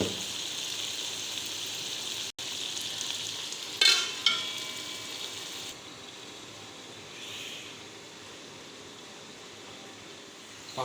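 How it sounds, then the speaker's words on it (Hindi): Chicken karahi frying in a pan, a steady close sizzle throughout with a few brief clinks and stirring scrapes partway through, then a softer sizzle. "चिकन को हमने 3 से 4 मिनट के लिए भूना है अच्छी तरह।"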